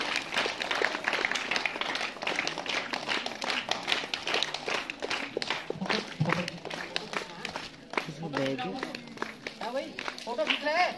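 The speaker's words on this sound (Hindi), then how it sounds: "तालियां बजती रहेंगी" Sustained clapping from an audience at a school Independence Day ceremony, dense and steady throughout, with a voice speaking over it and occasional bumps and movement nearby.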